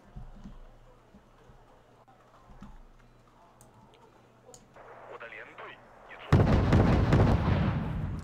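Anti-ship missiles from a Udaloy destroyer strike in a Wargame naval battle: faint scattered booms and ticks build to a sudden loud, roaring impact burst that rumbles on, with voices talking underneath.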